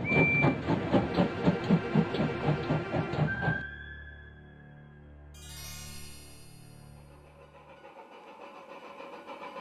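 In the video game Five Nights at Smudger's 4, a train engine rumbles loudly on the tracks with a steady rhythmic chugging and a high tone. It cuts off abruptly to a low hum, then a brief hissing sweep follows, with no voices.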